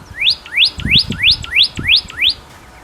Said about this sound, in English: Many smaller birds visited the garden.